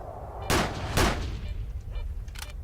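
Gunfire in STALKER: Shadow of Chernobyl: two loud, close, sharp shots about half a second apart, then fainter scattered noise over a steady low rumble.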